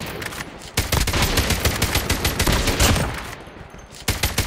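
Call of Duty Mobile battle royale match with sustained rapid gunfire, dense overlapping bursts of automatic shots filling most of the stretch, briefly pausing before a final burst, loud and close.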